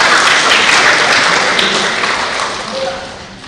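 Audience clapping at a youth public speaking competition in Ermera Municipality, a dense steady wash of many hands that fades slightly toward the end, with a faint voice briefly audible underneath.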